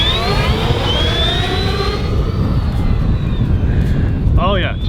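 Two RC Draco bush planes flying together in formation, their engines droning and whining with a sweeping pitch that rises and falls as they pass, loud and continuous outdoors, a brief voice near the end.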